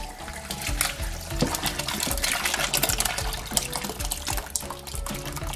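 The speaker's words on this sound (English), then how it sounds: "Now we separate the curd from the whey, the fun part." Whey pours and splashes out as curds are separated during homemade queso fresco making, a continuous loud gush of liquid with sloshing and dripping close by, no talking.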